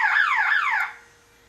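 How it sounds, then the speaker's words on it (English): A Niftylift TD120TN aerial work platform's controls give an electronic warbling beep that sweeps up and down repeatedly for about a second, loud and close, then cuts off into quiet. "Pressing enable button. There we go, and it's beeping."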